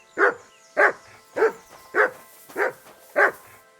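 Mutt the dog barking in Kingdom Come Deliverance 2, six sharp, evenly spaced barks close and loud over a quiet background.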